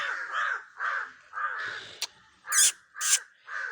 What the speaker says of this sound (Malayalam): കൂടെ അത് കാക്കക്കുട്ടിയാണ് കേട്ടോ. കാക്കക്കുട്ടി.